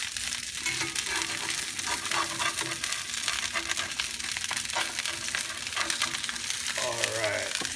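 A salmon fillet sears in lemon butter in a hot pan, giving a steady, loud, crackling sizzle throughout, with a brief shift in tone near the end as the fish is turned.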